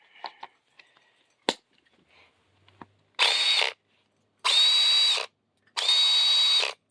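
Snap-on CT761 cordless power drill, brand new, running in three steady whirring bursts of about half a second to a second each, after a few clicks and taps as it is handled, close up with no speech.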